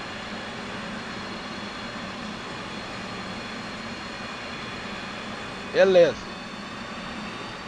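An F/A-18C Hornet's jet engines drone steadily inside the cockpit in the DCS World flight simulator with the canopy open, a constant loud whine and roar, with one short spoken word near the end.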